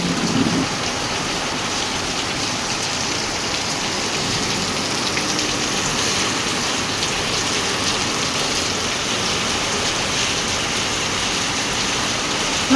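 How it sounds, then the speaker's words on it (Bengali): Heavy rain pours steadily and densely on surfaces for the whole stretch, a constant loud hiss with no voices and no break in the downpour. "কি দারুণ বৃষ্টিটা হচ্ছে, শুধু দেখুন কি মারাত্মক বৃষ্টি হচ্ছে।"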